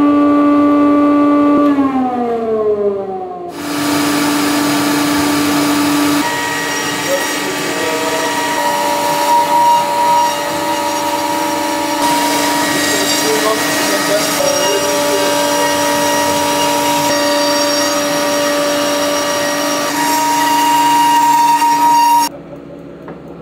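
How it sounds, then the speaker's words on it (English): A newly installed 3-axis CNC machine with a vacuum dust collection kit hooked up: a loud, steady siren-like whine that rises in pitch and then holds as a sustained tonal drone for about twenty seconds before cutting off. "So now we hooked up the vacuum, right?"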